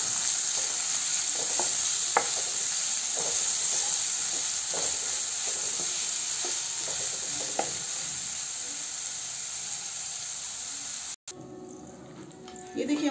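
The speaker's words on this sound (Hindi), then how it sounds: "ये देखिए हमारा प्याज भून रहा है।" Finely chopped onions frying in a pan over medium-high heat, a steady loud hiss of oil with scattered ticks of stirring, before an abrupt cut to a quieter, duller stretch near the end.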